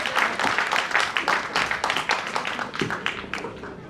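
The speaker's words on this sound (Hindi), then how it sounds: "एक ग्रेट तालियां उनके लिए" A seminar crowd in Delhi claps steadily and loudly throughout, a dense patter of many hands without pause.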